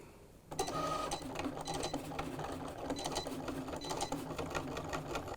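A Cricut cutting machine cuts sticker material for laptop stickers, starting abruptly and then whirring and buzzing steadily with rhythmic mechanical clicks and carriage movements, close and fairly loud throughout.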